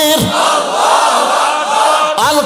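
A large crowd roars a takbir chant in unison at a religious gathering, loud and sustained, with voices swelling together and a fresh surge of shouting at the end.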